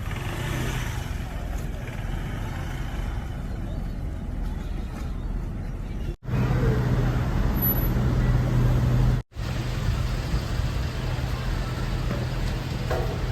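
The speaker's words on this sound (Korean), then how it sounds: "자, 오토바이 두 대, 두 대 가지고 들어갑니다" Continuous drone of two motorcycles riding on the road with engine rumble and traffic noise, two brief cutouts interrupting it; no speech.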